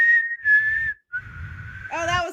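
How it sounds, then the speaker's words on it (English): Someone tries to whistle, producing a few thin, wavering tones broken by short breathy gaps, then a more voiced, warbling attempt at the end. "I can't even make a whistle, like,"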